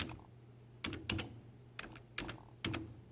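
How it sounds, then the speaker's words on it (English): Computer keyboard typing while entering text into Sure Cuts A Lot cutting software for a Cricut machine, heard as short clustered bursts of key clicks with pauses between them, close and fairly quiet over a low steady hum. "I'm just going to type using the keyboard"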